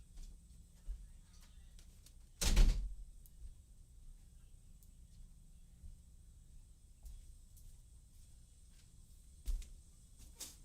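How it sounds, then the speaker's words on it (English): A door is shut once in a quiet indoor room, making a single solid thump that stands out before the room falls back to near silence with a few faint knocks. "Let me close that door because we could hear a conversation."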